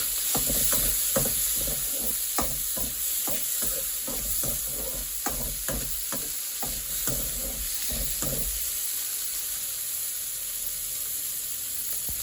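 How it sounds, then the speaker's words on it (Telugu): Tomatoes and onions frying in a pan for bitter gourd masala curry, a continuous hissing sizzle with a run of rhythmic stirring scrapes that stop partway, close, no talking. "ఇప్పుడు టమాటా ఇది కూడా బాగా మెత్తగా ఫ్రై అవ్వాలి"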